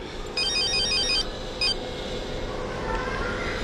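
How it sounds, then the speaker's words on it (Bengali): A phone rings in a home during a Bangla drama scene, with a bright electronic ringtone warbling for about a second, then a short second burst, over steady low room noise. "আপনার ফোন আসছে"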